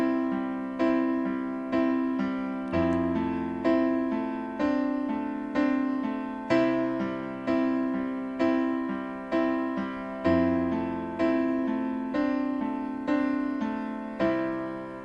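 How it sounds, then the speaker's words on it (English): Piano playing a broken chord progression, each chord's notes struck one after another in a steady repeating pattern that rings and decays, clear and close with no voices. "So now we're going to practice our first broken up chord progression"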